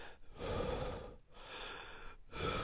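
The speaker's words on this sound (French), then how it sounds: "parce qu'évidemment quand je respire," A person breathes in a deliberately exaggerated way, with deep, audible inhales and exhales in steady cycles separated by brief pauses, close and loud with no speech.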